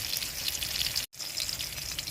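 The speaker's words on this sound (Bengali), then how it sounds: "এই দেখুন বন্ধুরা, আমি মাছ ভাজছি" Fish fries in hot oil with a soft, continuous hissing sizzle, heard alone and close but fairly quiet, broken by a momentary gap midway.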